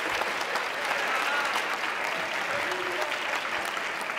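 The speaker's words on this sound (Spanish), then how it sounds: "Pues venga, un aplauso," Applause for a band during an event on La Palma, fairly quiet, even clapping from a small crowd, sustained without a break.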